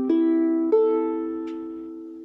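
A tuned ukulele strummed twice, its bright chord ringing out close and clear and slowly fading, with no talking.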